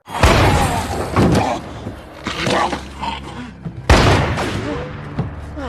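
Shotgun blasts from the zombie film Zombieland 2: loud, close booming shots with sharp bursts and crashing impacts, mixed with chaotic action noise and brief voices.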